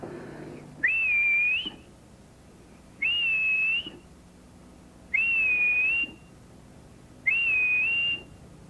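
A person whistles an imitation of a grey plover's melodic call four times, each a rising then level note separated by short pauses.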